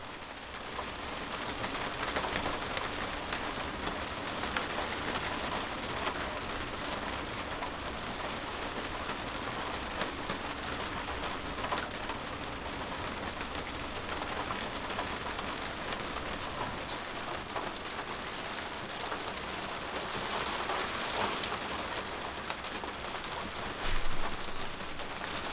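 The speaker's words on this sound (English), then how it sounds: "The sound of the rain on the roof is almost meditative" Rain falls steadily on the roof of an off-grid camper in the Swedish wilderness, a soft continuous patter that stays even and fairly quiet throughout with no talking.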